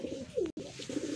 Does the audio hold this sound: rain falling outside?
no